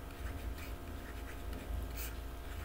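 Chalk or pen scratching out writing on a board during a maths lesson, soft continuous strokes with brief pauses, close and fairly quiet with no talking.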